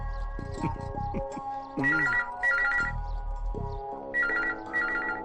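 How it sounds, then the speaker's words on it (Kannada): A telephone rings in repeated electronic bursts over a dramatic film scene, with a low musical or vocal sound in the first seconds. "ಕುಮಾರ್ ಕಂಠೀರವ, ನಿನಗೆ ಫೋನು."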